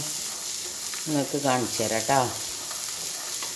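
Jackfruit seeds frying in a pan give a steady broadband sizzle throughout, while a person talks over it for a few seconds in the middle.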